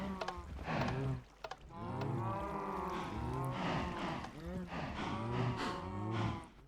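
Cows mooing in the video game Minecraft on a farm, a run of repeated low drawn-out moos overlapping one another, fairly loud and close, with no talk.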